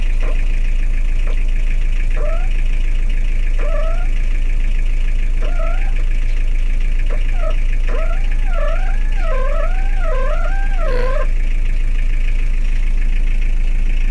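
A car engine idling during an air-conditioning check on a car whose rear aircon is not working, a loud, steady low drone with intermittent warbling, whining chirps over it.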